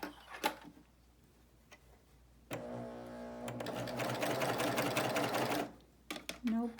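A BabyLock Euphoria coverstitch machine stitches over a seam, running steadily and close for about three seconds, with quieter handling and talk before and after.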